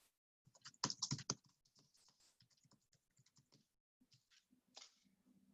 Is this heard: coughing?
no